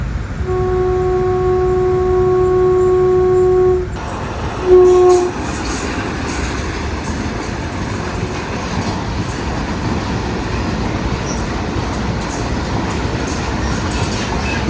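A goods train hauling LPG rolls past, opening with a long, loud horn blast and a second short honk. A continuous heavy rumble and clatter of wagons on the rails follows, close by and sustained.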